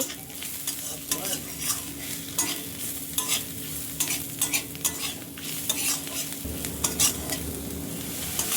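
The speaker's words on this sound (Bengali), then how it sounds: "তারপর 1 চা চামচ হলুদ ও 1 চা চামচ লঙ্কার গুঁড়ো দিয়ে ভালোভাবে কষিয়ে নেব।" A fried fish-head and rice mixture with turmeric and chili powder is stirred over heat, a continuous frying sizzle broken by repeated spatula scrapes in an uneven rhythm, near and clear, with no speech.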